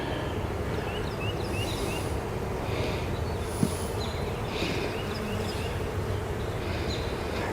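Honey bees swarm around an open hive, a steady dense buzzing that fills the air without pause, with individual insects droning past close by and no voices.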